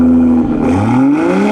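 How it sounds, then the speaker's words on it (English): Inline-six exhaust of a 2023 Toyota GR Supra, a loud, close engine note that drops and then climbs steadily in pitch as the revs build, heard alone without talk. "This is that beautiful inline six that has that exquisite exhaust note"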